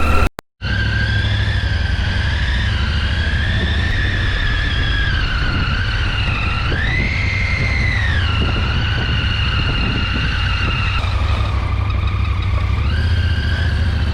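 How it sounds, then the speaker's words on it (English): Steady drone of a Triumph Tiger 800 cruising at low revs around 2000 rpm, heard alongside constant road and wind noise. The tone holds even and swells briefly mid-ride. "the character of this engine is very smooth, very torquey, and like I can literally cruise at 2000 rpm"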